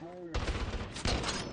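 Gunfire in a shooter video game: a quick close burst of rapid shots, then a second loud volley after a brief break, all within under two seconds.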